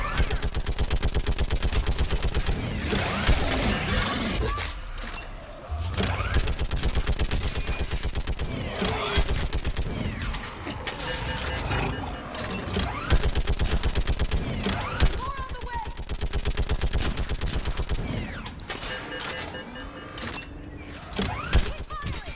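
A mounted gun fires in sustained bursts in Mass Effect 3 on Thessia, a dense, continuous clatter of shots under busy combat noise, with a player's voice heard at times.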